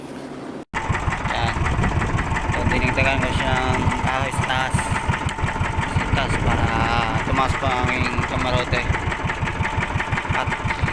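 A speedboat engine starts and runs steadily, a loud, close, rattling drone that continues without a break while a voice talks over it.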